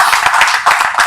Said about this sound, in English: Let us continue with the organic round of applause.